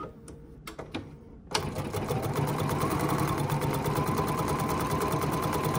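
A sewing machine stitches out a decorative pattern, starting with a few brief clicks before settling into a steady, loud, rapid mechanical chatter that runs continuously and close up with no talking.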